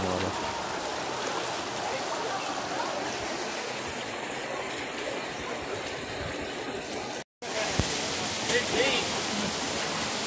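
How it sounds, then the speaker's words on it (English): A running stream at Catwalk in New Mexico pours in a constant, dense wash of splashing water, steady and fairly loud, broken once by a brief cut, with someone speaking briefly over it. "Running water."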